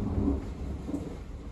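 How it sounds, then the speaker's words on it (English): A low, rolling rumble of thunder from a storm over the mountains of Kosciuszko National Park, deep and steady for a moment before easing, heard alone without talk. "We woke up at least every 2 hours from massive, like really loud thunder."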